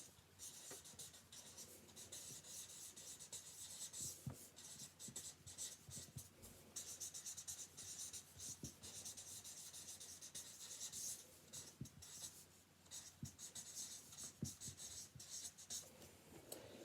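A pen writes steadily on paper at a school desk, a close, quiet scratching with short strokes and small taps, over a faint room hum.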